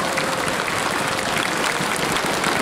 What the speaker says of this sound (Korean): 박수 한번 서로 보내주시면 고맙겠습니다.